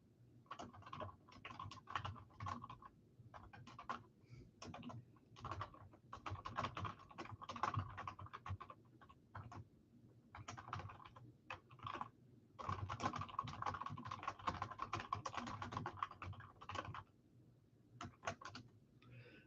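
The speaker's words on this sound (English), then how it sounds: "I'll type it in and I will reply with the link for the private show." Fingers typing on a computer keyboard during a livestream, quick irregular bursts of soft clicking keys with short pauses between runs, close and fairly quiet, with no talking.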